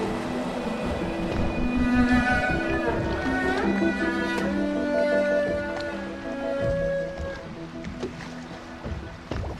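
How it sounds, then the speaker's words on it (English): A boat engine in the video game Dishonored drones steadily across the water, with a layered mechanical hum and occasional splashes, loud and continuous throughout, accompanied by tonal background music. "I should concentrate on piloting this boat."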